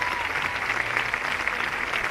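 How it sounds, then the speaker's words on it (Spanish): Steady audience applause fills a hall at a handball club's season presentation, a dense continuous patter of many clapping hands at moderate loudness throughout. "Un fuerte aplauso a todos los equipos de la base."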